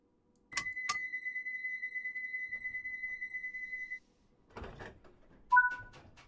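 Train doors in a London Underground train in Train Sim World give two sharp clicks and then a long steady electronic warning tone, followed by a sliding rumble and a final two-note chime.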